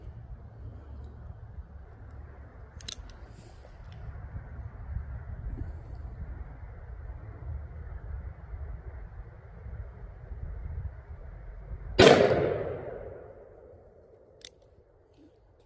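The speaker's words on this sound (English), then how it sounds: "I'm gonna do another cylinder, another 5 rounds, and see how that goes" A single sharp, loud shot from a .460 S&W revolver fitted with a red dot sight rings out late against steady outdoor wind rumble, followed by a decaying echo.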